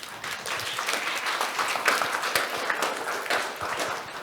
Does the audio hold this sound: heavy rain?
no